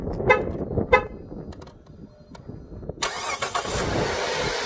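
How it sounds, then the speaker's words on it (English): A 2007–2010 Chrysler Sebring is started by its factory remote starter. Two short chirps come first, then the engine cranks and catches into a steady idle nearby. "Now you can see the car started."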